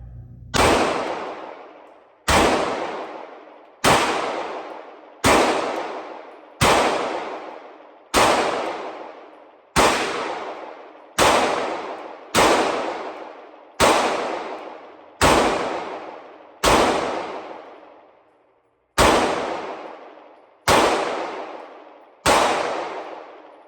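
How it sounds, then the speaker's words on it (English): Walther PDP pistol fires Blazer brass 115 grain rounds in a string of about sixteen sharp, loud shots, evenly spaced roughly a second and a half apart, each with a decaying echo and one longer pause near the end. "let me shoot one more magazine"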